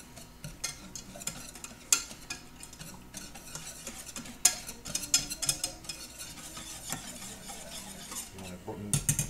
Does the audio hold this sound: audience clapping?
no